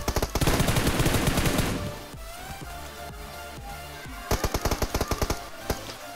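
Automatic gunfire in the battle royale game BGMI, loud dense bursts at the start, a quieter gap with scattered single shots, then another rapid volley of cracks near the end.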